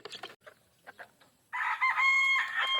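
A backyard rooster tethered on a cord crows loudly and close by with a long drawn-out call, after a few softer clucks and bird noises.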